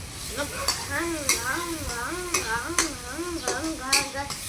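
Onions are stirred and fried in a pan while pasta is being made, giving brisk repeated stirring scrapes over a sizzle. A wavering hum-like tone runs throughout.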